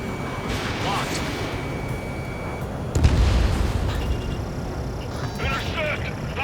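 Explosions and gunfire hitting anti-air radar vehicles during an Ace Combat 7 air battle: dense, rumbling combat noise throughout, with a heavier boom about halfway through and sharper crackling bursts near the end.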